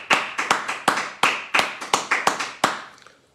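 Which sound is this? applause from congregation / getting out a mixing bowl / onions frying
applause from congregation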